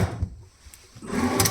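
A drawer in a hotel room slides open or shut with a brief, close scraping rumble lasting about a second, with no talking.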